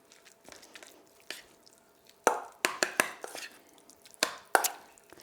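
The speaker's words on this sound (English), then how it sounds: "so you really wanna like mush it up" Silken tofu is squished and mashed into gyoza dumpling filling, a run of wet, squelchy presses and soft thuds, irregular and close, louder and quicker in the second half.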